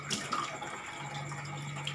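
Tap water runs steadily into a sink during face washing, a soft continuous splashing hiss with a faint low hum beneath it, heard alone and fairly quiet for two seconds.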